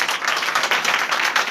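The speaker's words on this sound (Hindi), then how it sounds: "जोरदार तालियां" Audience applause at a religious gathering, a steady crowd of hands clapping together throughout, loud and fairly close, with no talking over it.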